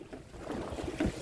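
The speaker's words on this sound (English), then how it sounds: "Light paddling." Dragon boat paddles dip and splash through the water in a brief burst of strokes, close and moderately loud.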